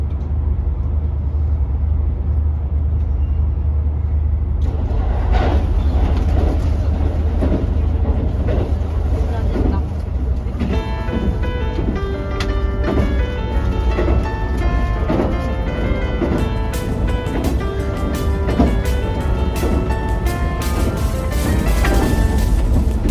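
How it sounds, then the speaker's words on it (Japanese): JR Kyushu's Yufuin no Mori limited express runs steadily after leaving Amagase station, a continuous loud rumble and rattle through tunnels, sharp curves and bridges, with a brightening hiss partway through and a droning hum throughout. "天ヶ瀬駅を出発した由布院の森号はしばらくの間トンネルや急カーブ、鉄橋の連続する区間を走行します"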